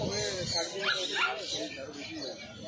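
A 55-day-old English Cocker Spaniel puppy whimpers and yips in high, wavering cries at a street pet market, close by, with people talking around it.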